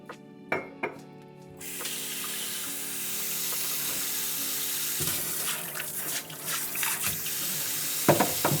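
Tap water running into a multi-purpose kitchen sink, a steady close hissing splash after a few light knocks, with brief clatters of handling near the end.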